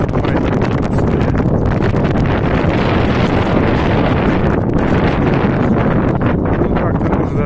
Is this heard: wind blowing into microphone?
yes